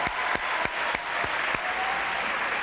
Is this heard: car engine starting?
no